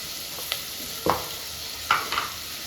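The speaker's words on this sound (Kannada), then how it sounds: "ಈಗ ಟೊಮೆಟೊ ಹಾಕ್ತಾ ಇದ್ದೀನಿ" Tomatoes stirred into a sizzling pan for Kannada-style radish sambar, with a steady frying hiss underneath and a few soft spoon scrapes and clinks.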